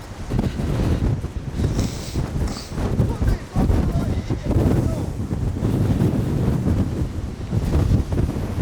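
Strong wind batters a coastal structure, roaring and buffeting the microphone in loud, uneven gusts with a low rumbling undertone throughout.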